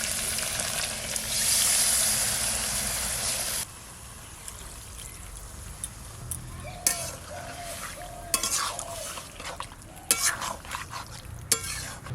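Fish cooking in a pan over an open fire as a splash of spiced water goes in, a bright hissing sizzle at first that drops to a lower simmer, with intermittent stirring scrapes and pan knocks close by.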